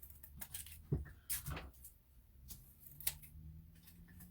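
Scissors trimming material for a winter shadow box craft, a few quiet, soft snips and small handling clicks spaced apart, close and faint.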